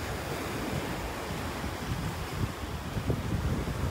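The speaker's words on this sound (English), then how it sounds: "it is windy out here" Wind buffets the microphone in a constant rough rush on a beach in North Naples, Florida, with surf murmuring faintly underneath; no voices, just steady outdoor blustering at the shore.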